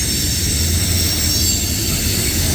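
Long CSX mixed freight train with rock hoppers rolling past at night at Point of Rocks, Maryland, a loud, constant rumble of wheels on rail with faint squealing, close by and steady throughout.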